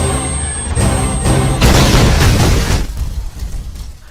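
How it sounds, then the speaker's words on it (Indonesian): A heavy, roaring bomb explosion destroying a house in an Indian action film rumbles loudly and decays into a lingering debris-filled rush over a few seconds. "bom pun meledak menghancurkan rumah"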